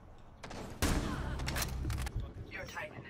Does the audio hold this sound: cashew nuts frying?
no